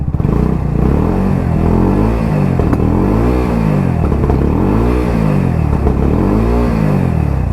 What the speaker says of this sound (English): I'm able to give it a little bit of a rev now, because it's been running for a while